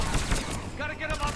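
An enemy-manned mounted gun in Mass Effect 3 fires in a rapid rattling stream of shots. A voice speaks over it partway through.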